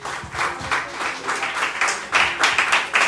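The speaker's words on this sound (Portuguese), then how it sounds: "Aplausos" Applause during a church service, a congregation clapping in uneven, rhythmic bursts that rise and fall, with some voices faintly mixed in.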